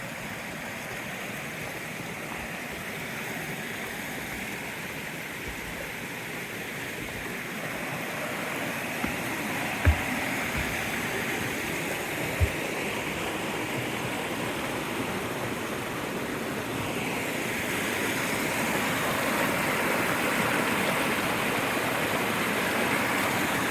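A mountain stream on Alander Mountain flows beside a wooden footbridge, its steady broadband rush of water holding even and close throughout, swelling slightly louder near the end, with no voices.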